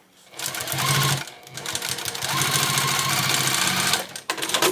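A sewing machine backstitches a bag strap, running in several short bursts with brief pauses between the forward and reverse passes, close and clear with no talk over it.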